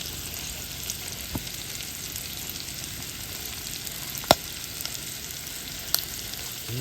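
Italian sausage and gnocchi fry in brown butter with a steady, moderate sizzle and a few sharp clicks of a utensil against the pan, heard close with no talking.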